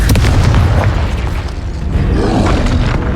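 An explosion from the Confringo blasting spell in the Hogwarts Legacy video game: a loud, sustained booming burst with rumbling low end that carries through the whole clip, with no talk over it.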